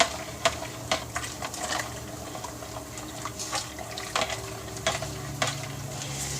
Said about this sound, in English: Can you hear that noise? Sounds like it's boiling.